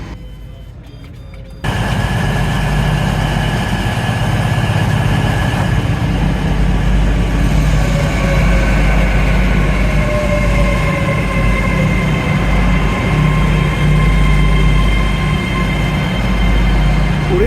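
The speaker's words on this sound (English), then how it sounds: "this is an earlier train than I expected" A train rumbles in and slows alongside the platform at Newton Abbot station, steady low engine drone with squealing wheel tones, loud and close, no talking.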